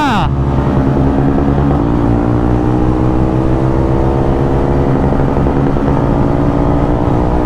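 Motorcycles race in a performance test between a 2025 Hunter 350, a Ronin 225 and a Jawa 42 FJ, with the Ronin overtaking. Engines drone loudly and steadily close by, with a rising whine at the start.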